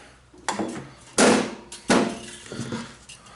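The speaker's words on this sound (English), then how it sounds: "Close my lid down here." The metal lid of a Thermal Arc 165 wire-feed welder is shut during a wire change. Two loud, sharp clunks come close together, with softer knocks and rattles around them, heard up close.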